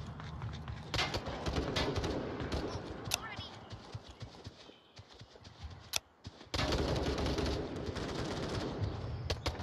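Gunfire in the video game Onward during a 4v6 match on a suburban map, bursts of rapid automatic shots and sharp single cracks in quick succession, with a brief lull midway before loud firing resumes.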